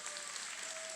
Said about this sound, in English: please join me in thanking them through your applause